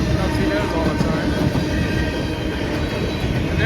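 Freight train of CSX or Norfolk Southern rolling past near Stockton and Sharonville, including BC Rail bulkhead flatcars: a loud, steady rumble of wheels and rattling cars with faint clickety-clack, continuous throughout, with a voice speaking over it.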